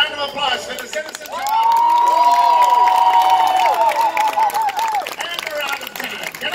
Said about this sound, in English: Another round of applause for the citizens.